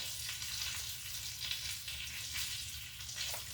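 Breaded chicken sizzles and crackles steadily in olive oil in a pan, a close, continuous frying hiss with no voices.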